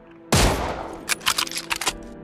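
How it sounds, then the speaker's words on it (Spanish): A single loud gunshot blast in an anime battle, firing a glowing bullet, followed by a scatter of sharp crackling bursts like a rapid fusillade that fades out within two seconds. "De pronto, un disparo resonó, sacudiendo la misma atmósfera."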